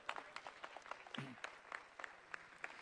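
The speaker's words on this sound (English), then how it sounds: "Applause is good." A quiet audience claps in scattered, uneven bursts for a few seconds, sounding thin and distant rather than like a big roaring ovation.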